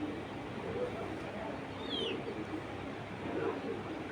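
Pigeons coo softly in a low, rolling murmur beneath steady background noise, with a brief higher chirp midway; the birds are kept for sale, including Icebar, Red Choker Mili and Grizzle breeds.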